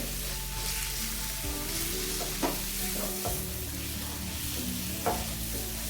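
Masala fries in oil in a pan for a karamani kulambu while being stirred. A constant close sizzle carries sharp spoon scrapes at irregular moments, with no voices.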